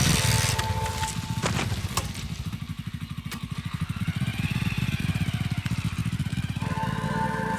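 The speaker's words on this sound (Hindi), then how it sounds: "मैं चलता हूँ, गाड़ी छोड़कर बाइक लेकर जा रहा हूँ।" A motorbike engine turning over and settling into a fast, steady putter, revving as it pulls away, close and fairly loud with no talk.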